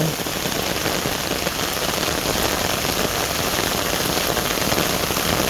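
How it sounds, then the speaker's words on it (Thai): Heavy rain with large drops pours down hard enough to flood the road, a steady, loud, dense hiss of drops striking surfaces with no voices. "ฝนเม็ดใหญ่นะนี่"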